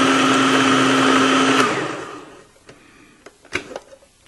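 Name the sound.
food processor grinding a bar of soap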